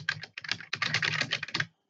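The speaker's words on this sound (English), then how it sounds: "I can type here." Quick keystrokes on a computer keyboard come in a close, fast burst of clicks over under two seconds, with short pauses between groups and no talk.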